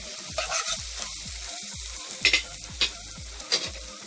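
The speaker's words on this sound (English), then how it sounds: "So I'm sauteing my scallion, my garlic," Scallion, garlic and onion sauté in a hot pan for a Jamaican salt mackerel rundown, a steady sizzle broken by a regular series of scraping spoon strokes, with a few sharper clinks near the end and no voices.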